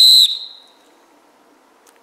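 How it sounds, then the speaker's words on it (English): A Fox 40 pealess whistle gives one short, piercing blast that cuts off abruptly and leaves a brief fading echo, followed by quiet room tone. "then I'm going to blow the Fox 40 and compare"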